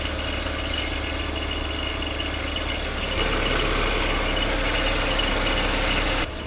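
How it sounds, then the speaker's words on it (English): Engine of a BMW E46 wagon idling steadily while the car sits up on a lift during a transmission service. A constant close rumble and hum gets slightly louder partway through and ends with a brief click. "so I've got the car running"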